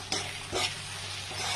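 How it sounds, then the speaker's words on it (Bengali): Fish coated with turmeric, salt and chilli paste sizzles steadily in a pan. Two short bursts of stirring stand out above the close frying hiss. "হলুদ, লবণ, লঙ্কা বাটা সব ভালো করে এবার কষিয়ে নেব।"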